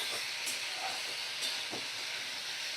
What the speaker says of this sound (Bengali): মিডিয়াম ফ্লেমে রেখেই আমি মশলাটা কষাচ্ছি।